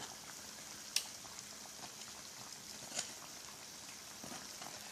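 Lao fried bread sticks (patongko) bubble in hot oil with a soft, continuous crackle and a couple of sharper pops, fairly faint and with no talking.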